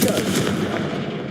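Confringo fire spell blast in the Hogwarts Legacy video game, a dense rumbling burst of crackling impacts that fades quickly, loud and close with no speech.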